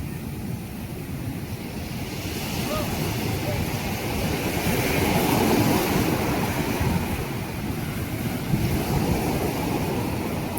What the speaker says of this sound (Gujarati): જો મિત્રો કેટલા મોજા આવે છે